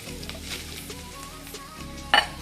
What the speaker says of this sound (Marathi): तूप गरम झालंय, आता तुपात ना खोबरं टाकून घेऊया.